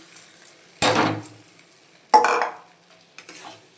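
Gobindo Bhog rice stirred and fried in spice paste in a pan, two loud scraping, sizzling stirs of the spoon against the pan close up, with quieter clinks between.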